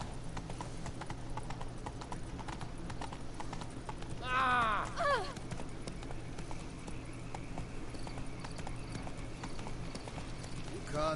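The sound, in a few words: horse Roach galloping hooves, from video game The Witcher 3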